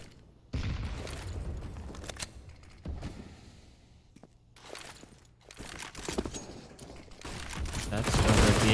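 Gunfire in a Counter-Strike match on the Mirage map, rapid bursts of close shots with mechanical clicks and footsteps in between, growing denser and louder toward the end.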